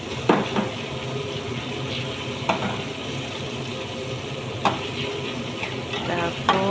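Tomatoes cook in a pan for sautéed okra, giving a steady close sizzle broken by a few sharp stirring scrapes and clinks, with no talking.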